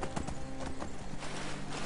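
Horse hooves clip-clopping in the video game Skyrim, a quick steady gait of hoof beats over background game music, fairly quiet and close.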